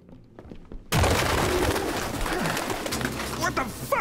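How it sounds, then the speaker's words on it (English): Pigeons in an abandoned, filthy building in the video game Detroit: Become Human, cooing and fluttering amid a sudden burst of ambient game noise, with someone talking over it. "Wow, pigeons everywhere."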